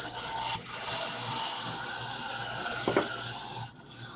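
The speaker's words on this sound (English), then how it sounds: "Sounds like Peg is uh, drawing something" Pencil or pen strokes rub across paper while making mixed media zines, a faint scratchy rasp of repeated strokes heard close up, with no talking.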